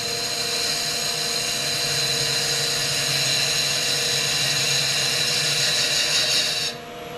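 A power strop sharpens a carbide wood carving tool with a steady, close whirring grind that runs unbroken for most of the stretch before suddenly dropping away near the end.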